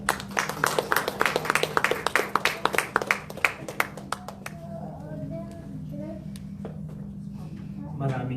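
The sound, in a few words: audience applause for a speaker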